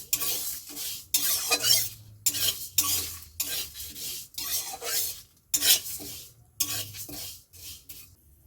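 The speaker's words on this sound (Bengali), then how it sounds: "আর দিয়ে দেবো একটা তেজপাতা দিয়ে ভালো করে এটা লাল লাল করে ভেজে নেবো" Moong dal and a bay leaf dry-roasting in a hot pan, stirred with a spatula: repeated scraping strokes against the metal in an uneven rhythm, close and clear with no talk.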